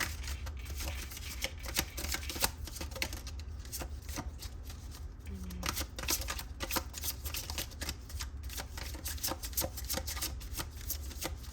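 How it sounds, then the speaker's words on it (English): Continuous riffling and flapping of bent playing cards being shuffled, close up, with repeated crisp bursts and a steady background hiss. "These cards are all bent. It's really hard to shuffle."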